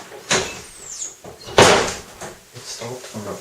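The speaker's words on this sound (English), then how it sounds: "Close the other door and then come in and close this door." A door inside a house shuts in two sharp, knocking bangs about a second apart, close by, with faint voices and small squeaks around them.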